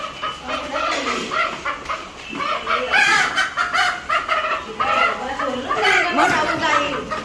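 Chickens cluck and chatter nearby while people talk loudly over them, the hens' calls rising and falling throughout.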